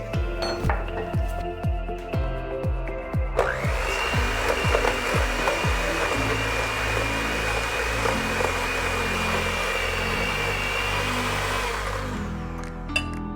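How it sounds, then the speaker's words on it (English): Softened butter, brown sugar and granulated sugar being mixed with a small electric mixer: a few rhythmic clinks against the bowl, then a loud, steady motor whine that runs for several seconds before winding down, with no talk. "We're going to mix together 2 tablespoons of softened butter, 2 tablespoons of brown sugar, a tablespoon of granulated sugar"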